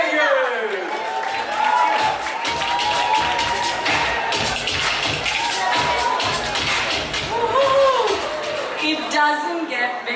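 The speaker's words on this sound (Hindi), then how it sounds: "तालियों से स्वागत करें मोनिका शेट्टी" Audience at a Bollywood Netflix show announcement event applauding and cheering to welcome Monika Shetty, a loud continuous crowd roar with claps and whoops, a host's voice carrying over it.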